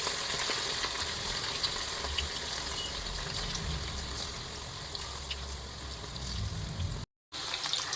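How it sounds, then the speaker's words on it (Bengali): Chicken pakoras fry in hot oil for a chilli chicken dish, giving a steady, close, dense sizzle that runs unbroken apart from a brief dropout near the end. "আমি এখানে চিকেনগুলোকে এক এক করে ভেজে নিচ্ছি।"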